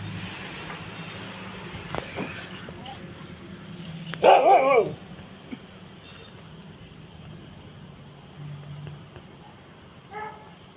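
A single short burst of dog barking rises from a quiet outdoor background, with faint scattered sounds around it.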